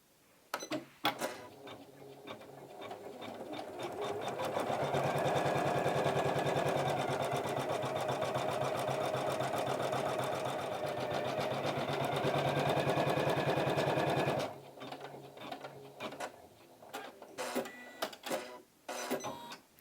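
An embroidery sewing machine stitching a satin-stitch stem, a steady rapid mechanical chatter running continuously for several seconds, with quieter clicks and pauses before and after.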